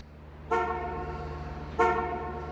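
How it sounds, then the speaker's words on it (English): An old Buick's horn sounds twice as the car is locked with a key fob in a parking garage, two bright, tonal toots about a second apart over a low steady hum, ringing slightly in the enclosed space. "And it's got this beautiful horn."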